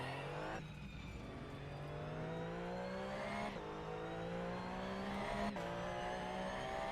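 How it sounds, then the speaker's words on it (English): Racing video game car engine revving loud and steady, pitch climbing then dropping at gear shifts, with skids and a brief crash-like burst, no talk over it. "Car noise is louder than both of you."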